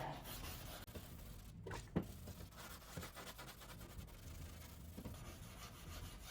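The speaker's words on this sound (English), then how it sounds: "I've sanded it down quite a bit with the 2000" Hand sanding of a car headlight lens with 2000 grit sandpaper, a quiet continuous scratchy rubbing with uneven back-and-forth strokes and a couple of small knocks, close and soft.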